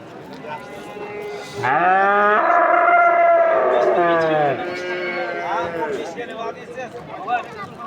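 A cow lets out one long, loud moo at the busy Qo'shtepa livestock market, with people talking and moving nearby before and after.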